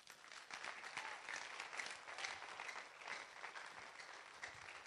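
A church congregation claps in steady, dense applause, a continuous patter of many hands heard fairly faintly and at a distance, with no voices standing out.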